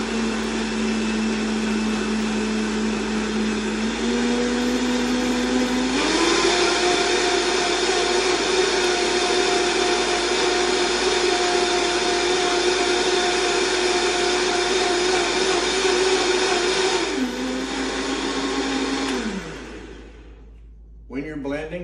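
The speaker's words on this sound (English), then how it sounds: "when you're using a blender, make sure that whatever you're putting in there isn't ripping hot and you've got a cover on it" A kitchen blender runs steadily, blending dried red chilies, garlic, onion, cumin, Mexican oregano and chicken stock into a chili sauce, its motor whining loud and continuous with a shift in pitch partway through before winding down near the end.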